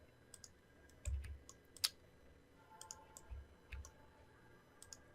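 Computer mouse clicking during play of the game Everquest, soft scattered clicks at a quiet level, with a few faint thuds and some background hum.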